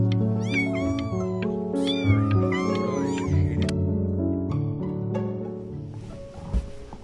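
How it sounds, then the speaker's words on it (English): A cat in the video game Before Your Eyes meows repeatedly, giving several short, high cries in quick succession over a steady sustained musical tone, then falling quieter toward the end. "You just happened to find a stray cat in the alley."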